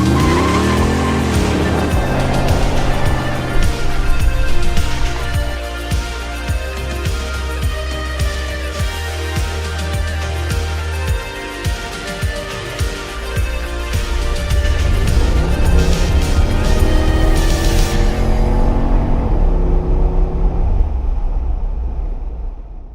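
A third-generation Chevrolet Camaro IROC-Z from the 1982–1992 F-body line, its V8 engine roaring and revving, with long squealing tire skids, loud and close throughout before the sound cuts off near the end.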